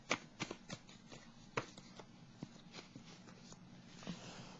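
Tarot cards are handled and shuffled from a deck, giving soft papery slides and quick snaps that recur at close range, with brief light tapping in between.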